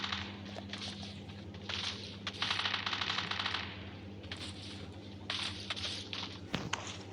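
Rapid bursts of automatic gunfire in a shooting video game, rattling in quick rhythmic strings at moderate, fairly faint level, with a sharp louder crack near the end.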